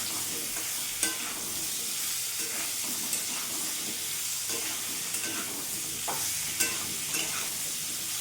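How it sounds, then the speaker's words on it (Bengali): Chopped pointed gourd fries in hot oil with turmeric and salt, giving a steady bright sizzle with occasional stirring clicks and scrapes in the pan. "পটলের মধ্যেও সামান্য হলুদ গুঁড়ো আর সামান্য একটু লবণ দিয়ে দেবো। পটলটাকে লাল লাল করে ভেজে নেব"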